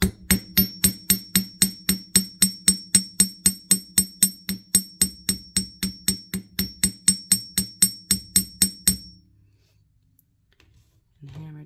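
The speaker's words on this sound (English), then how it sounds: "And I'll just take my small hammer." A small hammer taps steadily on wire for a wire-wrapped ammonite pendant, about thirty sharp, evenly spaced metallic clicks close up for nine seconds, then stopping into near silence.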